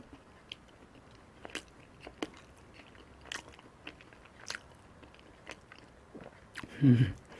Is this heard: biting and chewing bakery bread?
yes